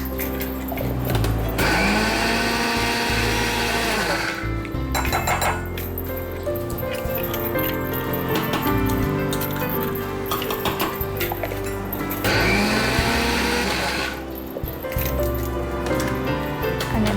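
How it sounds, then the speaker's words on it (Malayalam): A mixer grinder loudly pulverising roasted coconut chutney powder (chammanthippodi), a harsh continuous whirring grind with rattling jar and blade clatter, pausing briefly and restarting in bursts. "ഏതായാലും നമ്മളിപ്പോൾ കുറച്ചുകൂടി ഒന്ന് പൊടിക്കട്ടെ"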